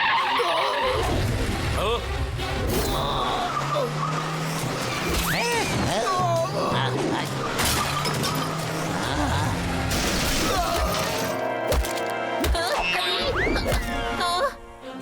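Cartoon car skids with squealing tires and then crashes, a loud continuous run of screeching, engine noise and impacts with music and voices mixed in, ending in a sudden cutoff.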